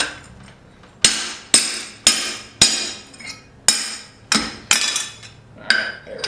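A hammer strikes hot steel while a cleaver is forged, giving about ten sharp ringing blows at an uneven, deliberate pace, each leaving a bright metallic decay, close and loud with no talk.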